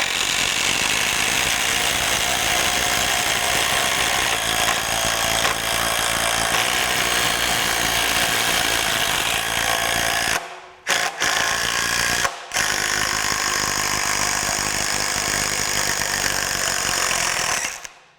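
Craftsman V20 RP and Dewalt brushless impact drivers drive screws, one on a 9 amp hour battery and one on a 6 amp hour battery. The loud, continuous, close-up hammering whine stops briefly twice and then resumes, with no voices.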